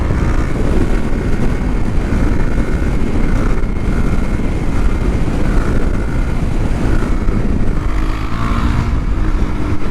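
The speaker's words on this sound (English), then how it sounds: "I think that was like pretty much a 50-mile-an-hour wheelie on the Duke" A KTM Duke 390 motorcycle fitted with a 56-tooth rear sprocket does a wheelie at speed, with a loud, continuous engine roar and heavy wind rumble throughout.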